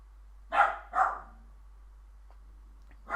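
Dogs bark twice in quick succession, close and loud against a quiet room, then fall silent before another bark begins at the end.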